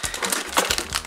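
A plastic packet from a toy surprise box crinkles and rustles in close, sharp bursts as it is handled, loud and up front with no talking.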